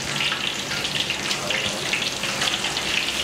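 Food deep frying in a generous amount of oil in a pan in a home kitchen, a steady dense crackling sizzle with no talk over it.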